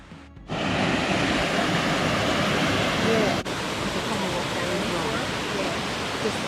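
The River Liza in a Lake District forest pours over its bed in a steady, broadband rush that stays loud and even throughout, with no voices over it.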